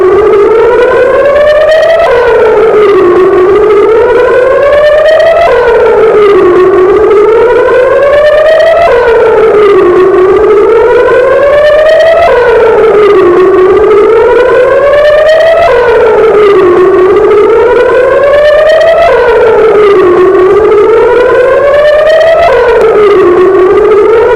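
A civil defense air raid siren wails loud and close, its pitch rising and falling in a steady cycle about every three to four seconds across the whole stretch, with no voices.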